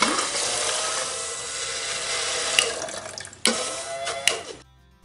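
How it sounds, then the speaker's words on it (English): An automatic bilge pump, switched on by hand during a test, gushes water in a steady, close rush for about three seconds, then sputters and clatters with a few sharp knocks before falling quiet. "The pump should discharge water."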